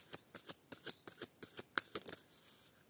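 Tarot cards shuffled by hand, close and quiet, in a rapid series of crisp riffling flicks and taps with no talk over them.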